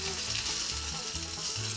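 Curry leaves crackle in hot oil with cumin and mustard seeds, a continuous close sizzle with fine popping and no voices.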